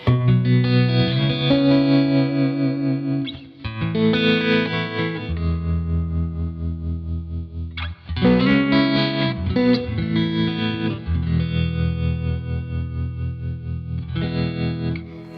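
Distorted electric guitar chords ring out through a Louis Electric Deltone amp with spacious reverb and a chorus shimmer, loud and sustained with a few abrupt chord changes.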